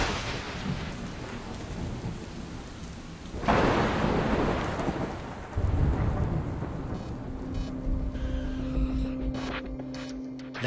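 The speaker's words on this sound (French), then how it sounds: "Plus d'1 millier d'orages grondent en permanence quelque part dans le monde." A thunderstorm with steady heavy rain hissing on surfaces, broken by loud nearby thunder crashes that roll into deep lingering rumbles, with no voices present.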